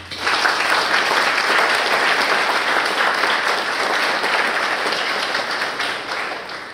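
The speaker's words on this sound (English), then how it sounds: "we want to celebrate you and give you a round of applause." Steady, sustained applause from an audience at a virtual programs completion ceremony, a dense wash of clapping that holds loud for several seconds before easing slightly at the end.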